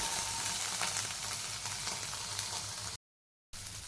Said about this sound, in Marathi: आता टोमॅटो पण आपल्याला हलकंसं भाजून घ्यायचं आहे